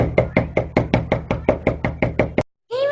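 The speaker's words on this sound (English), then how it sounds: "just ring the doorbell or knock on the door" A rapid, even run of about thirteen loud, close knocks on a door to call a dog outside, followed by a brief pause and then a short muffled sound.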